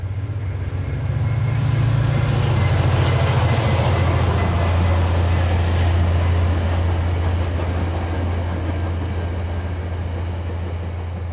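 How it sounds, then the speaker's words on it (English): A stainless-steel Via Rail Budd car passenger train passes close by with a loud, steady rumble and a constant hiss of wheels on rail that lasts the whole stretch, with a faint high whine above. "Another Via train. It's amazing to see the Bud car still in service."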